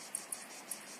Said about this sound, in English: Oh, it's the crickets. They're coming alive.